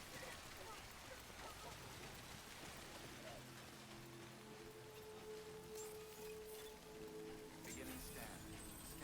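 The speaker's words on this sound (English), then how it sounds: "It's still raining." Rain falling in the video game Death Stranding, a soft continuous hiss of drops spread evenly throughout, fairly quiet and steady, with faint tonal game sounds drifting in the background.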